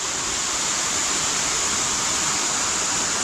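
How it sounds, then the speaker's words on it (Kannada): Water pours down from above at a waterfall, a dense, constant rushing roar, close and loud with no voices. "ಕೆಳಗಡೆ ನಿಂತ್ಕೊಂಡ್ರೆ ಒಳ್ಳೆ ನೀರು ಮೇಲಿಂದ ಬೀಳ್ತದೆ"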